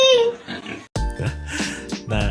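A pig oinks and grunts in a few loud, close, nasal bursts with a short break between them, set against a busy, slightly musical background.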